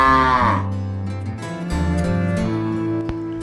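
A cow moos in several long, low, drawn-out calls, loud and close, with no other sounds around it.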